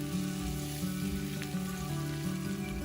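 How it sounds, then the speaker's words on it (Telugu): Ground onion and green chili paste fries steadily in a pan, giving a continuous close sizzle with a soft crackle and no voices over it. "ఈ ఉల్లిపాయని పచ్చివాసన పోయే వరకు కూడా వేయించుకోవాలి."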